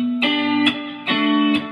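Electric guitar arpeggiating the opening chord of a song, with effects, four clear plucked attacks ringing into sustained overlapping notes, close and alone.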